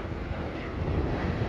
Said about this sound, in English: That's a plane going